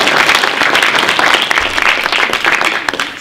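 Sustained audience applause fills a room at a world affairs forum talk about the Tenement Museum, a dense, steady wash of many hands clapping at close range throughout, with no speech over it.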